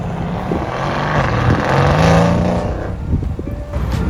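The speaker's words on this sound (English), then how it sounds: "we have a Supra sliding through the intersection" A Toyota Supra slides through an intersection outside a busy car meet with around ten thousand people, its engine revving and roaring as it swells, peaks and fades, with crowd noise around it.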